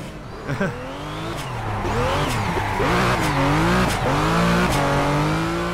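Tyres squealing as a Ruf RT 12R drifts through a corner in Project Cars, a sustained wavering screech over the steady roar of the revving engine, loud and continuous throughout.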